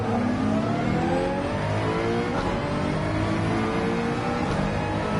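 A McLaren race car engine in the Gran Turismo 7 racing game revs loud and steady throughout, a continuous high-pitched mechanical roar with shifting, rising tones.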